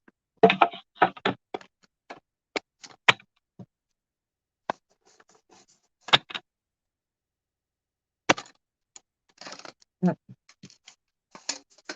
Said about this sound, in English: I'm just putting this through the embossing folder through the machine.